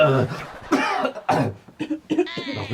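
Several harsh, raspy coughs in quick bursts, mixed with a voice speaking briefly between them, close to the listener.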